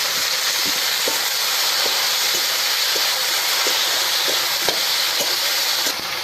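Tomatoes hit a hot pan of ginger and garlic, and a steady, dense sizzle and hiss runs throughout with faint stirring clicks, close and fairly loud, with no voices.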